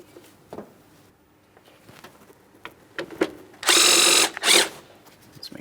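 A power tool snugs a mounting bolt on the transmission mount of a 2008-2016 Chrysler Town & Country 3.8L V6, two short loud bursts near the end after scattered quiet clicks and handling noises.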